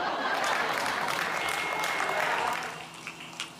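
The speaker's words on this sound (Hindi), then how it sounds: "अब क्या आपके कानों में आकर कहूँ की ताली बजाओ?" Audience applause at a comedic Hindi poetry recital, a dense steady clapping from a crowd that holds strong for about two and a half seconds before thinning out and fading into scattered claps.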